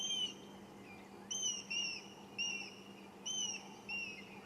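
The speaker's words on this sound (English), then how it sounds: "You hear the frantic whistles of the grey hornbills." Grey hornbills whistle frantically from a tree near their nest in the African bush: repeated high, sliding whistled calls come in short bursts over a steady low hum, moderately faint.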